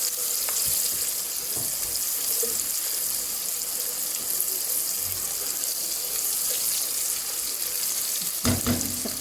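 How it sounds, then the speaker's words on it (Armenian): Sliced carrots fry in a pan in a home kitchen, giving a steady, close sizzle throughout, with a few soft utensil knocks and a brief clatter near the end. "Թողենք տապակի"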